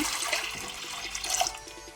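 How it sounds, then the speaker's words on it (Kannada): Water splashes and gurgles steadily into a metal pressure cooker holding soaked chickpeas for a couple of seconds, a close, continuous pouring sound. "ಅದಕ್ಕೆ ನೋಡಿಕೊಂಡು ನೀರು ಹಾಕೋಣ"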